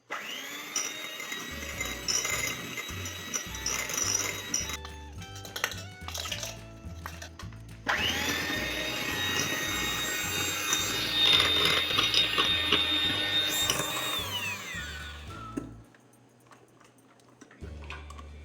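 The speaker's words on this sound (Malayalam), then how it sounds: "മുട്ടയുടെ വെള്ള ബീറ്റ് ചെയ്ത് അല്പം കഴിഞ്ഞതിന് ശേഷം അതിലേക്ക് നമ്മൾ പൊടിച്ചു വെച്ച പഞ്ചസാരപ്പൊടി 1 കപ്പ് ഉണ്ടല്ലോ, അത് ചേർത്ത് നല്ലതുപോലെ ബീറ്റ് ചെയ്യുക" Electric hand beater whipping egg whites with powdered sugar, a steady close mechanical whir that shifts pitch midway and runs continuously before cutting off near the end.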